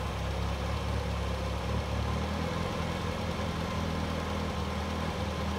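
A 1966 Triumph Spitfire engine idles during carburetor adjustment, a steady low rumbling hum at an even, unchanging speed, close by and continuous with no voices.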